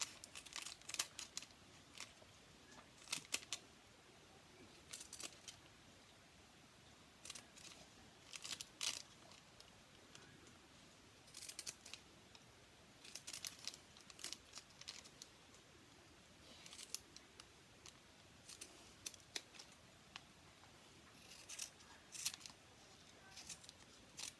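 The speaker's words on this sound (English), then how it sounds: "So just going to cut this out quickly." Scissors snip around a paper cutout for a blue tit bird craft, the crisp short cuts and crinkling paper coming in scattered bursts close up, with quiet gaps between them.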